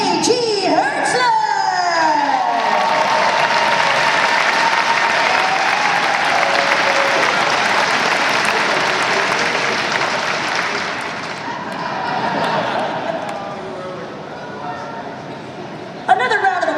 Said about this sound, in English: Another round of applause for J.G.